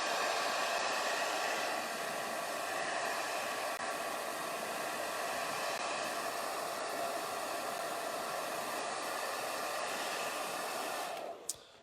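A hair dryer runs steadily and loud at close range, a continuous broadband whoosh drying paint on a paper tiki mug, then cuts off abruptly near the end.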